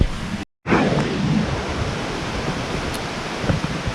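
Pouring rain over a house building site, with broad steady hiss and rushing noise close to the microphone, briefly cut out near the start before continuing unbroken.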